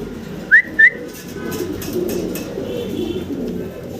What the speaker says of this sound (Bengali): আমরা আরও এক পেয়ার জার্মান বিউটি হোমা দেখতে পারতেছি